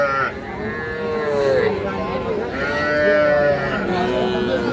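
A young calf moos repeatedly at a cattle market, drawn-out wavering calls close and loud over a continuous background din, with faint voices nearby.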